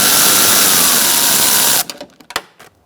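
A power tool backs a bolt out of a 2002-2006 Honda CR-V front door, a steady loud whirring buzz for almost two seconds, then stopping and followed by a few close clicks and knocks.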